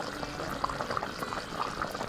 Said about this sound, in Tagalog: pagkatapos pakuluan ang laman at tuwalya ng baka